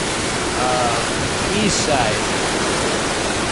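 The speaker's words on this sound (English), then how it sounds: "Here we got a real close look at the water coming out of the Stilling Basin tunnel." Flood water on the Missouri River roars out of the Oahe Dam stilling basin tunnel in a loud, steady broadband rush, with a voice briefly speaking over it.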